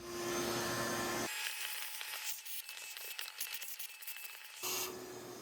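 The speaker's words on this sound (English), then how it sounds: "I want to vacuum out and clean up that sand that's in there." A vacuum cleaner hums steadily, then shifts to a rough, rattling roar as it sucks up gritty sand from a Jeep Gladiator's engine air filter box, before returning to its plain whine.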